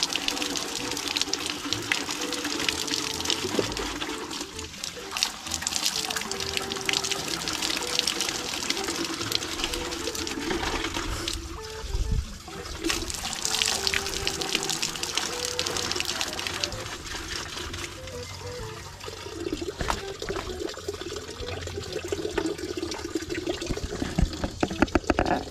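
A hand-operated deep well pump in Mindanao sends water gushing out in a steady, loud, unbroken rush that lasts throughout, with faint background noise.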